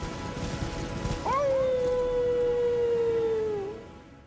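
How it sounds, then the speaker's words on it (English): Blaidd the Half-Wolf in Elden Ring gives one long, steady howl near Mistwood Ruins. It rises sharply, holds and then fades over a noisy, rain-like game ambience, loud and alone with no talking. "Once you get closer to the ruins, you shall hear a howl."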